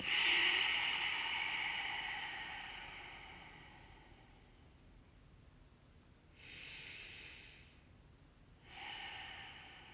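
Slow, deep breaths during a guided meditation: a long inhale or exhale at the start, then two shorter breaths later, soft and close, with quiet pauses between.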